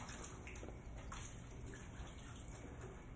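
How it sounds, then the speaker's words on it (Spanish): Running water for washing hands pours in a steady, continuous broadband rush from a tap, fairly close and unbroken, with no talk. "Al menos hay agua para lavarse las manos"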